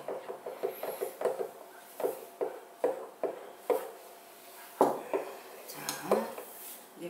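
Chive pancake batter for Korean ancestral-rite jeon being stirred in a bowl, heard as quick, uneven clinks and scrapes of a utensil against the dish, close and fairly loud, repeating in bursts.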